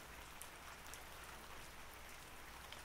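Steady rainfall hisses continuously as a dense, even wash of drops on a surface, soft and unbroken throughout, with no voices.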